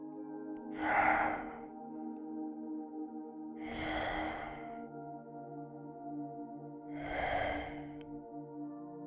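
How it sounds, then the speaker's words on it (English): A large sleeping beast in a cave breathes deep, heavy and slow: three evenly spaced, breathy exhalations a few seconds apart over a steady low background drone. "you notice a sound, like a deep, heavy, and slow breathing"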